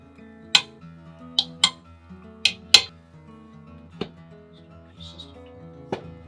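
A spoon clinks and scrapes against a pot while sugar, ground cinnamon and cloves are stirred into homemade apple butter, several sharp close knocks spaced irregularly over a quiet background.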